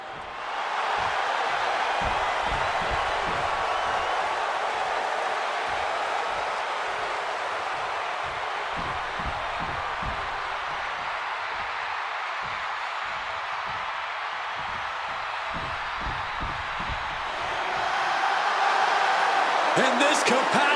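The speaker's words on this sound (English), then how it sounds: "And this capacity crowd just exploded." Large capacity crowd roars in a steady, dense wall of cheering throughout a WWE 2K26 wrestling video game match, swelling louder near the end, with a commentator talking over it.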